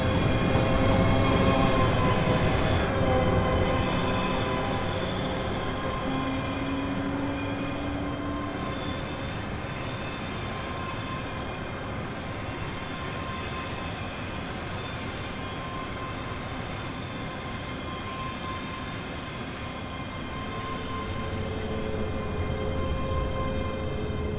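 Simulated train in Train Simulator Classic approaching a platform on the Glasgow line, a steady rumbling run of wheels and motor hum with squealing wheel tones, holding fairly constant for over twenty seconds with no talk.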